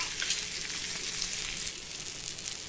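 Bangda mackerel coated in rava fries crisp in a pan, a steady close hiss and crackle of hot oil that holds even throughout.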